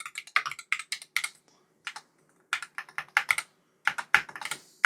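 Rapid typing on an MCHOSE Ace 68 magnetic-switch keyboard during a typing test: close, crisp key clacks in uneven bursts with brief pauses, and no talking.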